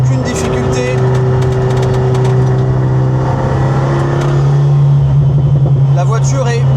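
An Alpine A110 Schirmer GT sports car cruising at about 90 km/h, a loud steady engine drone with a constant low hum, and someone speaking throughout over the engine.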